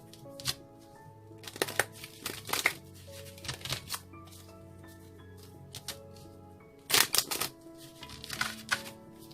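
Tarot cards are shuffled in several quick riffling bursts, close and crisp, separated by quiet pauses.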